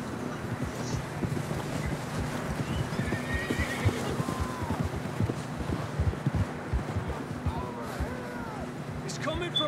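In the video game Red Dead Redemption II, a horse whinnies amid rhythmic hoof clops and wind noise, with people talking over the scene throughout.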